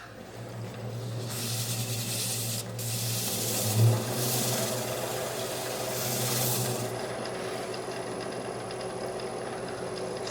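A cherry wood bowl spinning on a wood lathe being polished with Yorkshire grit abrasive paste: a continuous close rubbing hiss that swells and fades in broad strokes over the lathe's steady motor hum.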